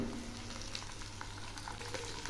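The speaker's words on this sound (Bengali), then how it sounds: "এবার আমি এর মধ্যে দিচ্ছি ঢেঁড়সগুলো।" Okra frying in five to six spoons of hot oil with already-fried onions, giving a steady, close crackling sizzle throughout with no talking.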